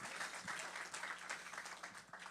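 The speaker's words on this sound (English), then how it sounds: "Clap for that." Quiet audience applause at a book event for Rebel Rebel, a David Bowie history, steady dense clapping from a small crowd lasting a couple of seconds.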